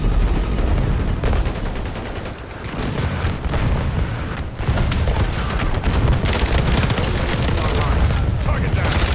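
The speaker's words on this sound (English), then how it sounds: "Taking small arms fire." Small arms gunfire in the video game Modern Warfare, a dense run of rapid shots and booming reports filling the whole stretch with only brief lulls, loud and close, with game voices mixed in.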